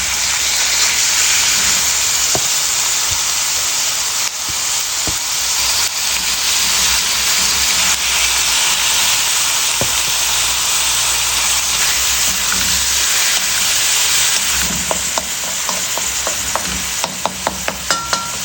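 Beef sizzles steadily while being sautéed in a pan, a loud continuous frying hiss with occasional sharp pops and crackles, heard alone without talk.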